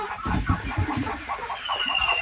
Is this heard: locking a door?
no